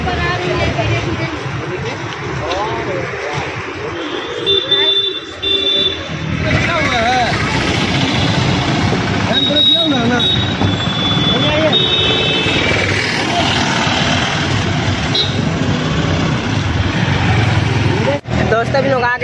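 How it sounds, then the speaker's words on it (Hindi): A new car creeps slowly forward onto a road, its low engine and tyre rumble steady and close under loud crowd chatter and someone talking over it. "गाड़ी देखिए धीरे धीरे बढ़ रही है, और गाड़ी अब रोड पर आ रही है धीरे धीरे"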